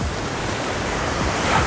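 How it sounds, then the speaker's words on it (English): Waves crashing onto a Samoan shoreline on an overcast day, a continuous loud roar of surf with a rising swell toward the end, no voices. "Waves crashing onto the shoreline."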